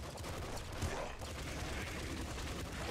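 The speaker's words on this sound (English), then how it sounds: "This is why I love the SMG. It's like a budget minigun." Rapid SMG gunfire in the Nuclear Throne video game, a dense continuous stream of shots with game effects throughout, steady and fairly loud.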